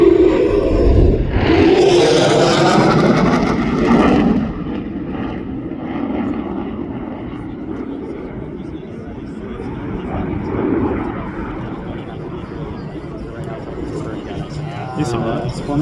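An F-35 Lightning II fighter jet in a short takeoff and vertical landing demo at MCAS Miramar air show, a loud roaring jet pass in the first seconds, then a distant sustained engine rumble with a commentator talking over it.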